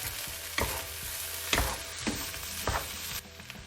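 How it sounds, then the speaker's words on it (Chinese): Pineapple being stir-fried into shrimp fried rice in a wok over residual heat after the flame is off, a soft sizzle broken by four heavy scraping tosses of the spatula, close up, no voices. "然后将菠萝倒进去，用余温继续翻炒。"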